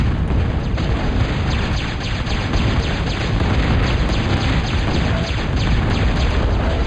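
Tanks are hit in a war video game, heard as a loud, continuous barrage of heavy booms and crashing explosions layered over a dense rumble, with no talk over it.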